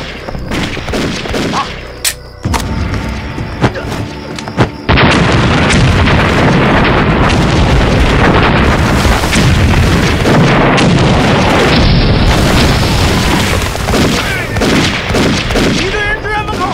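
A war film's battle erupts, with booming blasts and bursts of gunfire that swell into a loud, continuous barrage of explosions and shots.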